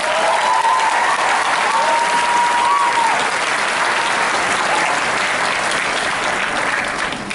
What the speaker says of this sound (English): So if we could give them a big round of applause.